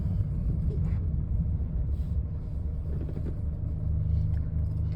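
Steady low road rumble and engine drone of a car in motion, heard from inside the cabin, continuous and even throughout with no talking.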